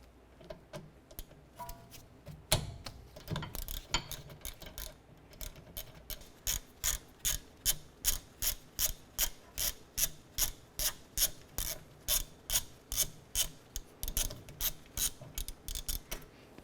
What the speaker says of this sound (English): 12mm socket, we're going to remove this bolt here and this bolt here